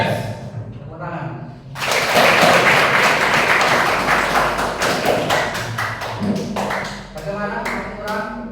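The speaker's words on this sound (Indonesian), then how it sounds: "Tepuk tangan." A group following an exercise leader breaks into a burst of hand clapping after a spoken count, loud and dense at first, then thinning into scattered individual claps; voices are heard before and during.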